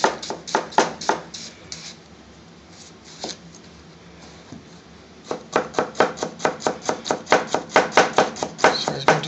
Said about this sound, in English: So I'm going to chop the onion, finely chop them into small pieces.